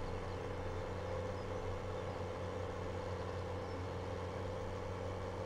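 In Farming Simulator 17, a game vehicle's engine runs at full throttle with a constant, droning hum and no change in pitch, fairly faint and steady throughout.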